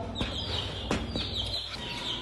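Domestic pigeons and their chicks make soft clucking calls and short chirps close by over a steady background hum, with no talking.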